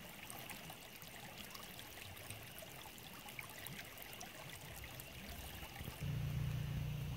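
Water flowing in a Missouri creek near Lake of the Ozarks, a soft continuous trickle and rush, faint and steady, with a slightly louder low rumble near the end.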